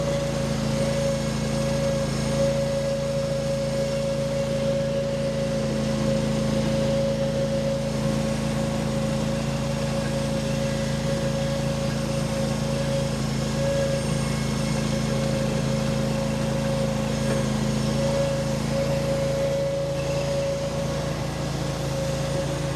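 A Derette DRT450 mini skid steer engine running at high, steady revs, a continuous droning hum with strong tonal whine that holds at a constant pitch throughout, close and loud with no voices.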